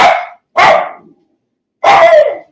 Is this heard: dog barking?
yes